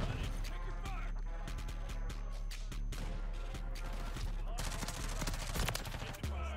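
Rapid full-auto gunfire from a Lachmann Shroud and other weapons crackles in dense, loud bursts during a Call of Duty MW3 gunfight, with game sounds and some speech mixed underneath.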